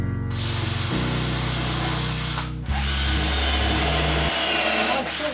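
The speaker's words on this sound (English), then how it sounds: "Now I'm going to drill it and screw it in from each side." A power drill bores into a clamped plywood rolling shop cabinet in a workshop, loud and close, its motor whine steady with a brief pause and shifts in pitch as the bit bites.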